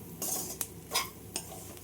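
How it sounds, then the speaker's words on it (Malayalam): Bitter gourd fry with added sugar stirred in a pan, giving a few quiet spoon or spatula scrapes and clinks over a faint low sizzle. "ഇന്ന് നന്നായിട്ടൊന്ന് ഇളക്കി കൊടുക്കാം"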